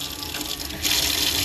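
Steady running water pours from a tap, a continuous hiss that swells louder partway through as the flow increases.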